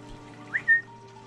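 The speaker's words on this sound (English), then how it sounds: "He knows my whistle." A handler whistles to call in a Harris hawk at a mews and aviary: one short rising note, then a brief clear sustained whistle, close and distinct over a faint steady hum.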